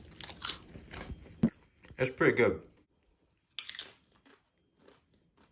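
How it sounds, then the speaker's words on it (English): Crunchy four-egg pizza being bitten and chewed up close, several loud crisp crunches in quick bursts, with a brief remark spoken between bites. "just listen to the crunch."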